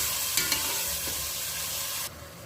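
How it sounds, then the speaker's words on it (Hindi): Peas and onions stir-fry in a pan with a dense steady sizzle and a few light clinks of the spatula; near the end the hiss drops away abruptly, and nobody speaks. "अब हम मटर और प्याज़ों को अच्छे तरीके से भून लेंगे।"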